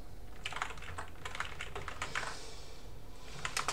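Rapid keystrokes on a computer keyboard entering a terminal command on a Manjaro LXQt Linux system, coming in close bursts of clicks with a short pause before a final flurry, steady room noise underneath.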